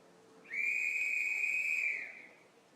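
A referee's starting whistle at a STIHL Timbersports British Pro Championship, one sustained shrill blast of about a second and a half, clear and fairly close, fading with crowd and arena ambience behind it.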